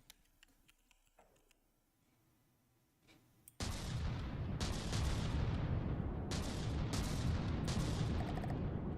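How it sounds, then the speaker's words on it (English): A big cannon fires in the From the Depths building game: after a quiet lead-in, a loud blast erupts and sustained rumbling gunfire follows, with several sharp repeated bursts layered over a dense roar. "I got to fire a big cannon today"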